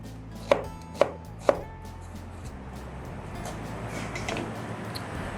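Onions chopped with a knife on a board, three sharp evenly spaced chops up close, followed by quieter scattered cutting and handling sounds.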